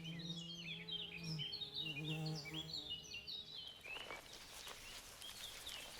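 Wild honey bees buzz around wood anemone flowers in a forest while pollinating them, a steady close hum with bird chirps over it, growing busier and noisier toward the end.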